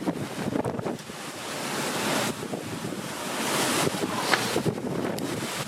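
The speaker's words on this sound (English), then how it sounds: "it's definitely a little windy." Strong wind roars and buffets the microphone in continuous heavy gusts, with a rushing, surf-like hiss throughout and no voices.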